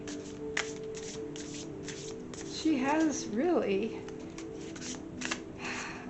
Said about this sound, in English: Let's shuffle just a little more.